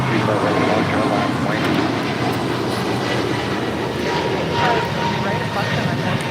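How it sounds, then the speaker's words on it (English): An American Airlines Airbus A321neo takes off at LAX, a loud continuous jet engine roar with broadband rumble, while a voice talks over it. "481 taking off to Philadelphia on an A321 Neo"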